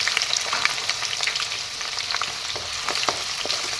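Chopped onions hit hot oil in a pan already holding bay leaves, cloves, cardamom and cinnamon, for a local chicken curry; a dense, steady sizzle with bright crackle and small pops continues throughout, close and with no voices.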